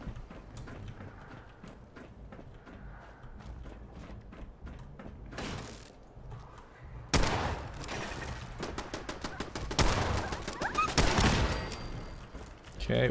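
Rapid turret gunfire in the Fallout 4 video game, starting sparse and distant, then breaking into loud, dense automatic bursts in the second half, with mechanical clatter under a voice talking.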